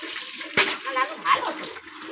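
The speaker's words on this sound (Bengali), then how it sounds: "লালো ভদ্র ছেলের মতো স্নান কর" Water is poured over someone being bathed: two short splashing gushes close by, with a voice talking around them.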